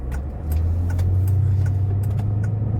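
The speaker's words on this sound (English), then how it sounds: "it's really cool just driving around," A car drives steadily along a road, its engine a loud, continuous low drone that swells slightly after the first half second and holds close and even throughout, with no voices.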